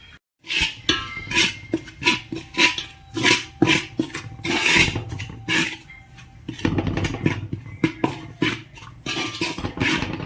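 Spices for a mango pickle are roasted in a pan on a low flame, with a spoon repeatedly scraping and clinking against the metal in an uneven rhythm, close up and with no talking.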